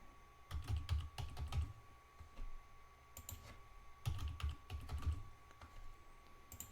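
Password being typed on a computer keyboard: clusters of quick, close key clicks in irregular bursts with short pauses between, over a faint steady background hum.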